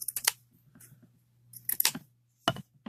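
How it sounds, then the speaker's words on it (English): Scissors snip through cream-colored felt in quick close clusters of crisp cuts, with pauses and light handling noises between bursts and a faint steady hum underneath. "I'm going to take this felt and cut it out like a square like this"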